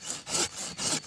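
A pruning saw cuts through a coffee tree branch in rapid, even back-and-forth strokes, loud and close, with four rasping pulses and no talk.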